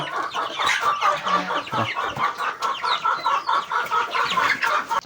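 A flock of chickens clucking continuously, several birds overlapping in a busy, close chorus with no talking.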